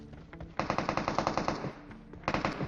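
Rapid automatic gunfire from a shooter video game played on an iPad, a dense burst of evenly spaced shots lasting about a second, then a pause and a second burst starting near the end, loud and close with no talking.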